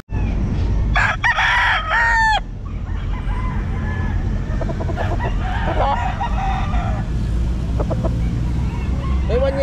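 A rooster crows loudly and close by at a pet market, one long crow followed by shorter clucks and calls, over a busy bed of background crowd noise.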